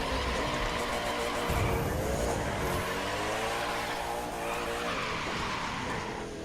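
Car engine roaring with continuous tire squeal and skidding as a Koenigsegg Agera R drifts through a drift event in The Crew 2 racing game, loud and sustained with shifting engine pitch throughout.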